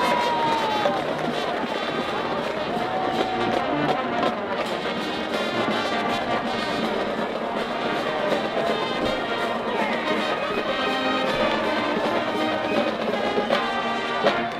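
Packed stands at a Thursday night high school varsity football game between Redondo Union and North Torrance, a dense, steady crowd roar with music-like tones and cheering mixed in, sustained at even loudness for the whole stretch.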